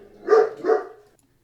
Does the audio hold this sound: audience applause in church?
no